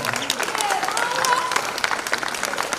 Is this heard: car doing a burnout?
no